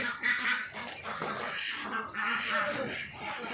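Ducks quack on a Bengali duck farm with around 250 laying ducks. The calls are dense and overlapping, a steady chorus of the flock from close by, with faint voices in the background.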